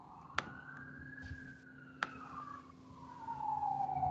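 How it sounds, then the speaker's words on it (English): A police car siren wails in the distance, a single slow tone rising and then falling over several seconds, faint against a quiet room with a couple of sharp clicks. "there's a police car"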